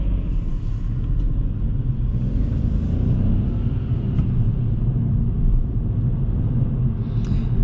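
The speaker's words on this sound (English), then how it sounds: "let's make a little test drive of this car" Steady low engine rumble from a 2021 KIA Rio GT Line 1.0 T-GDI mild hybrid with 100 HP and a six-speed intelligent manual gearbox, heard from inside while it is driven, a continuous drone with road noise and no talk.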